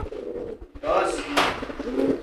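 Racing pigeon giving soft throaty coos close by, mixed with rustling and someone speaking nearby.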